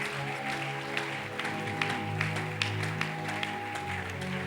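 A church congregation applauding during a sermon: a steady, moderately distant patter of clapping from many hands over a droning organ or keyboard chord, continuous throughout.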